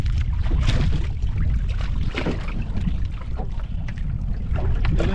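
Strong wind blows across a small boat at sea, buffeting the microphone in a loud, continuous roar with gusty surges and water noise, close and unbroken.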